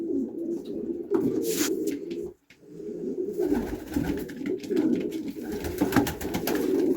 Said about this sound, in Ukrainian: Голубочка іранська така.